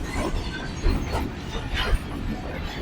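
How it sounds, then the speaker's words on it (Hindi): Karachi Express train approaching Rohri Junction in Pakistan, a rumbling, rattling rail roar with periodic wheel thumps, loud and close, no voices. "15 कराची एक्सप्रेस रोडी जंक्शन में पर अप्रोच कर रही है"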